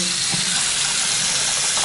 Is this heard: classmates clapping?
no